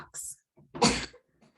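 A child in the room gives one sharp, breathy sneeze, preceded by a brief hiss and a faint catch of breath, close and moderately loud.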